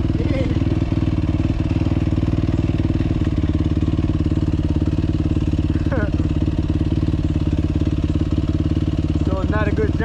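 A dirt bike engine runs close by with a steady, buzzing idle throughout, while people talk over it.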